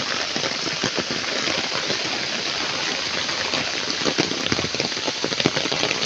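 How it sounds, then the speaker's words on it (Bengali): Heavy, steady rain pours down outdoors at a duck farm, a dense unbroken hiss with scattered louder drops and splashes throughout, no voices. "সকালবেলা থেকে একটানাই বৃষ্টি হচ্ছে"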